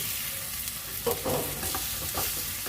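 Boiled, cut potatoes stirred into hot oil fried with coriander powder and spices for a potato fry, giving a steady close sizzle with a few scraping stirs of a spoon in the pan.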